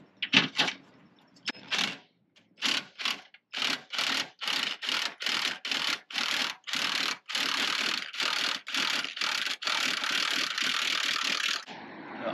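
A bent Lippert stabilizer jack on a Forest River Salem FSX travel trailer runs in a long series of evenly spaced grinding, ratcheting mechanical bursts, close and loud, ending in a steadier whir.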